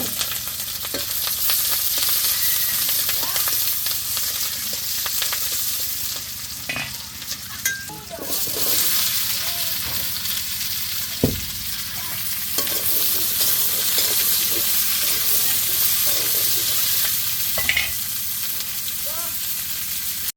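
Onion and black cumin frying in a pan for a bottle gourd and fish stir-fry in a village kitchen, a loud continuous sizzle with intermittent stirring and scraping strokes, close up, with no talking.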